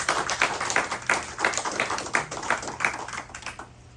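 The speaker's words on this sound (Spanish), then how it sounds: "Denle un aplauso a Cristo" A congregation claps during a church service, a close, brisk, fairly rhythmic run of claps that trails off at the end without speech.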